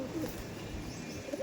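Saharanpuri Kaldam pigeons give soft, low cooing in a brief moment, close by, over a noisy background.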